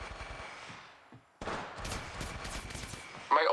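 Rapid automatic gunfire in the Apex Legends Mobile video game, bursts of shots after a brief lull and a sharp loud blast near the end, with faint game voice underneath.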